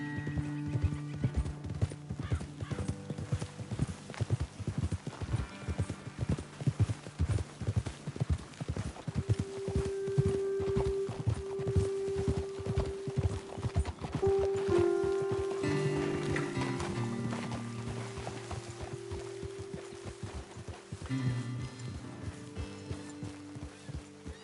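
Horses walk in Red Dead Redemption 2, their hooves clip-clopping in a steady close rhythm, with a whinny partway through and a low drone of game music underneath.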